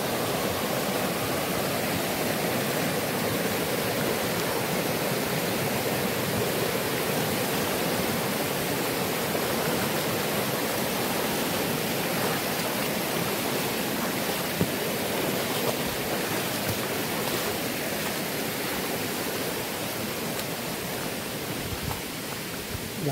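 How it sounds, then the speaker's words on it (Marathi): A small stream running high with water after a day or two of rain gives a steady, loud, broadband rush that continues unbroken, with no voices. "व्हाळ्याला पाणी जास्त आहे कारण 1-2 दिवस मध्ये पाऊस लागत होता."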